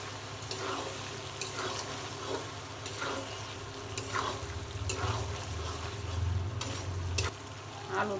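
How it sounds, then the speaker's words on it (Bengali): Potatoes sizzle and fry in a pan during Bengali home cooking, with a steady hiss and several scraping stirs at intervals across the clip, close and moderately loud, with no talking. "আলু দিয়ে আমি কিছুক্ষণ কষাই নেব"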